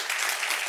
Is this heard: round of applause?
yes